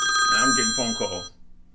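A telephone rings with steady electronic tones over someone talking, the ringing cutting off after about a second.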